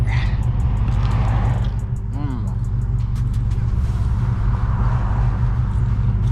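A loud sports car engine, a Ferrari F8 or a 1000-horsepower Dodge Hellcat, rumbles steadily and close on a Los Angeles drive, a deep continuous roar with voices talking over it.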